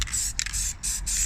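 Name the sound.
aerosol spray on a rusty car radiator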